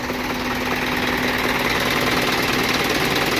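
A faulty car engine idles with a rapid, even knocking tick running steadily underneath a constant mechanical drone, close and continuous with no talk.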